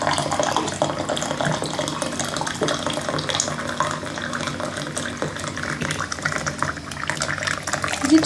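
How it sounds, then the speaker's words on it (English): Hot water runs steadily into a cup for instant noodles to be made in a microwave, a continuous close splashing rush lasting several seconds. "What you're gonna do first is pour the cup of hot water."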